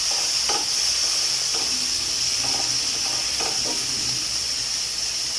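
A T-bone steak fries in a pan with a steady hiss and sizzle, broken by occasional soft stirring or scraping of a utensil; no one talks.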